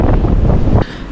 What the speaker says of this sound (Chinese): 顶着外面那个8、9级的大风，我又回到了我之前这个宾馆这里了